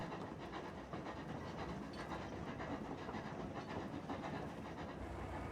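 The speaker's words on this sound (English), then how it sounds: "You can hear the train." A train rumbles steadily past on the Lakeville map of a tank video game, a continuous dense clattering rail noise at moderate level throughout, with no talk.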